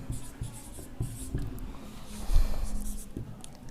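Examples are written out by hand, with a close, soft scratching and tapping of the pen in short irregular strokes across the surface.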